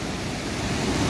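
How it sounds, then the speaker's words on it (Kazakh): Water flows and gurgles in a mountain stream in the Merke mountains, a brief, even rush of broadband noise with no voices. "Мына аяқта су сырқырап ағып жатыр."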